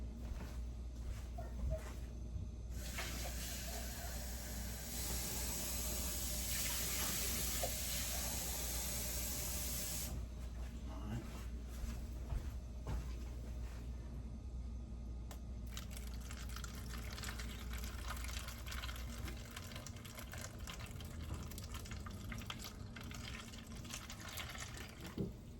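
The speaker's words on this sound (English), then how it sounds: "Then we'll add some water." About half a cup of water is poured into a pan of barbecue-seasoned spareribs and onions for the air fryer, making a steady rushing splash for several seconds before a quieter trickle follows.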